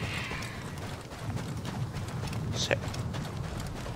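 Horse hooves galloping in the video game Assassin's Creed Origins, a steady rhythmic clip-clop under game ambience while someone talks briefly.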